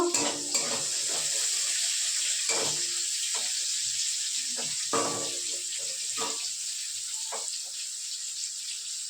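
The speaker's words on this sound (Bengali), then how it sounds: "তো এই দেখো গোটা দিয়ে ফোড়ন দেবো" Whole spices sizzle as they are tempered in hot oil in a home kitchen, with a steady bright hiss and a few clinks of a utensil against the pan.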